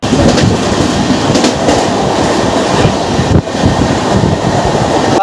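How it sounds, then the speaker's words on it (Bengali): The 15722 Paharia Express, running on LHB coaches between New Jalpaiguri and Digha, makes a loud, continuous rumble and rattle with faint wheel clatter, heard close up from on board with no speech. "পনেরো হাজার সাতশো বাইশ পাহাড়িয়া এক্সপ্রেস আজ থেকে হয়ে গেল আইসিএফ কোচ থেকে এলএইচবি কোচ পাহাড়িয়া এক্সপ্রেস"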